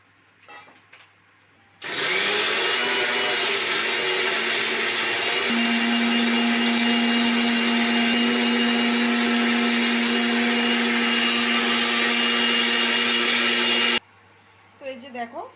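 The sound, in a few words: mixer grinder blending paneer masala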